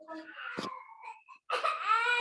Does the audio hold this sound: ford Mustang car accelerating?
no